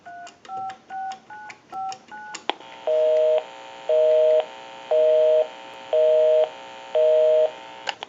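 Touch-tone dialing on a Cracraft Leich wood wall telephone: a quick run of about seven DTMF beeps, then a series of evenly spaced repeating tones at roughly one-second intervals, clear and close.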